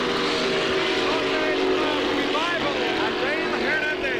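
Flat-bottom racing powerboats with 550 cubic inch engines roar at a regatta final in Valleyfield, a loud continuous engine drone with rising whines as boats pass, while an announcer talks over it.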